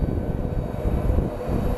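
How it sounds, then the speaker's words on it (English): Airliner taxiing at Phoenix Sky Harbor International Airport on a very windy day, a steady loud low engine rumble with gusty noise throughout, no talk. "And our flight from Cabo is actually taxiing right now."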